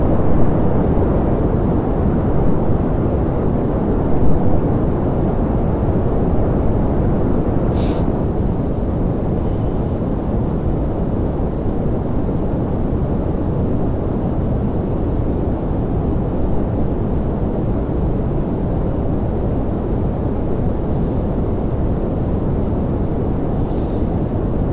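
A rocket engine in Kerbal Space Program thrusts during ascent, a loud, steady low roar like broadband rumble that continues unbroken throughout, with no talking over it.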